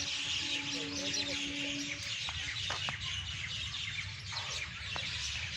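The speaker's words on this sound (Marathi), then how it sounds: "पक्ष्यांचा किलबिलाट चालू आहे" A dense chorus of many birds chirps and twitters continuously, with faint low background noise and a voice murmuring distantly beneath.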